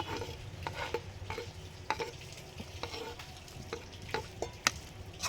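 A spoon stirs mashed chhana into mango pulp in a pan for mango sandesh, with soft scraping and irregular light clicks against the pan over a low hiss, close and fairly quiet, no speech.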